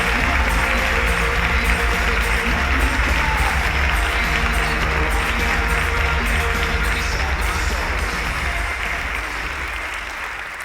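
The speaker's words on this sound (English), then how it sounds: "Give yourself a big round of applause" A conference audience at the 2019 Points of Light Conference applauds as speaker Wade Davis is welcomed. The clapping is loud, dense and sustained, then eases slightly toward the end.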